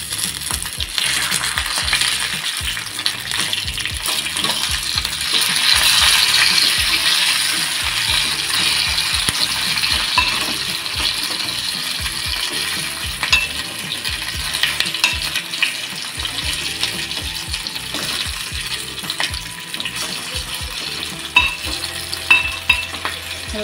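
Stuffed capsicums sizzle steadily in a pan over medium heat as they are turned, a dense close hiss with scattered clinks and scraping of utensils throughout, no voices.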